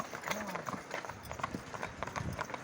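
Hooves clip-clop steadily on hard ground as heavy draft work horses pass close by, with voices talking over the rhythmic clatter.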